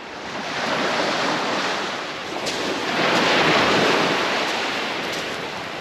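Surf rolls steadily onto a beach in the Bahamas in broad, continuous washes that swell and ease, with wind noise buffeting the microphone and no talking.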